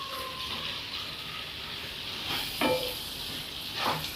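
Chopped omelette pieces are stirred into egg pepper masala in a pan, a low sizzle with a few brief scraping strokes of a spoon, quiet and close.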